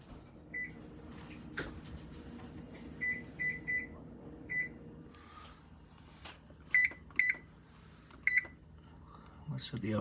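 An oven's control panel beeps while being set to 445 degrees in a home kitchen: short, clear electronic beeps come singly and in quick clusters over a low background hum, with a few clunks between them.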